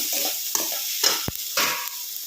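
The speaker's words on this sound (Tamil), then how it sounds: "இதுலேயே நம்ம அந்த தேங்காய் துருவி சேர்த்து வணக்கிக்கலாங்க" Grated coconut sautéed in a kadai while making coriander chutney, with a few bursts of scraping stirs and a soft sizzle between them, close and fairly quiet.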